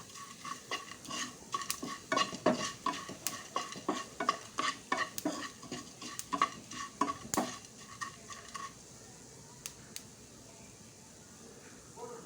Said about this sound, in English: add jeera and sauf and saute it well